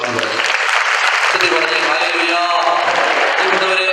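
A church congregation clapping in praise of the Lord, a broad wash of applause that rises and stays loud under overlapping voices and singing.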